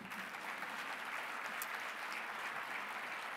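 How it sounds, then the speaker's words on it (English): A conference audience applauds itself, giving a steady, even round of clapping that sounds somewhat distant and subdued. "So clap for yourselves"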